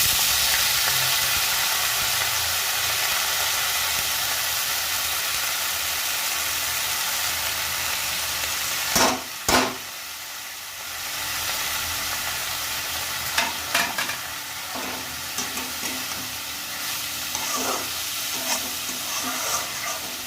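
Dried chili and leafy greens sizzle and hiss steadily in a pan, a soft continuous frying crackle broken midway by a few sharp clatters of stirring.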